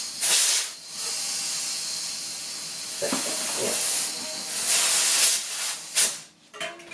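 Air hissing from a pump or compressor into a Trek Marlin 5 bike tire during a tubeless conversion, loud bursts of rushing hiss with short pauses between them, no voices.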